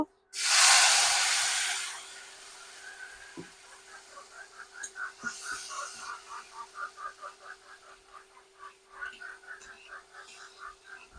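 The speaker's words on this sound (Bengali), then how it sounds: "মাছ ভাজা হয়ে গেল এবার এই তেলের মধ্যেই আমি এই যে মশলাটা কষিয়ে নেব" Spices hit hot oil left over from frying fish, a loud burst of hiss that fades into a pulsing, crackling sizzle for several seconds, heard close and without speech.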